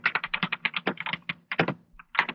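Fingers type on a computer keyboard in quick irregular bursts of close, crisp key clicks, with a few short pauses and no talking.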